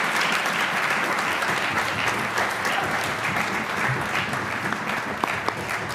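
Loud, sustained applause from a concert audience for graduating seniors at a combined high school spring orchestra concert, a dense continuous wash of many hands clapping.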